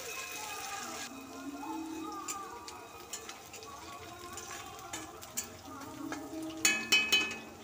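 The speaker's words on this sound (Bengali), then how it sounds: "কালো জিরে দিয়ে সব উপকরণ একসঙ্গে ভেজে নেব।" Spices with black cumin fry in a pan for a gourd-leaf mash, a faint low sizzle with light stirring scrapes and clinks, a voice murmuring underneath and a few louder clatters near the end.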